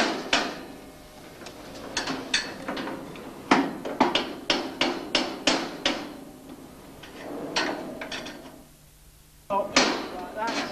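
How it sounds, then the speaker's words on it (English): Sharp metallic taps come in uneven bursts, a bolt being knocked through a hole, with a pause and then a few more hits. "all I'm doing now is getting my bolt, and I'm tapping it through like so"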